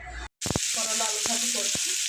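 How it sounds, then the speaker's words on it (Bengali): Bitter gourd and potato fry in a pan with a steady, close hiss, broken by a brief dropout near the start and a few sharp clicks of stirring. "করলা আলু ভাজি করছি।"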